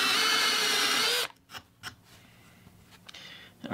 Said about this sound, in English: So now I've got a countersink bit. I'm just going to go ahead and run over all these holes real quick.